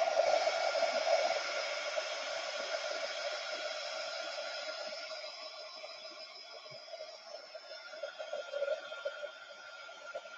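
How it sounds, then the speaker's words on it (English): A crafting heat tool blows hot air over texture paste with a steady, close whirring rush that stays even and slowly softens slightly over its length. "But I'm going to hit this with the heat tool."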